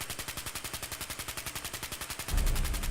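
Rapid automatic gunfire from a handmade rifle in Fallout 4, a steady stream of evenly spaced shots for over two seconds, ending in a louder, denser burst of blasts and impact noise.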